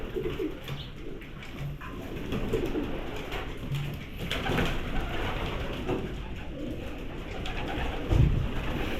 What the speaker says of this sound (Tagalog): Kita nyo naman po yung mga ano, healthy kalapati, masigla.